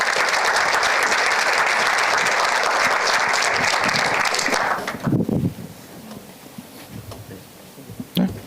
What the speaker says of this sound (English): Let's give them a warm applause.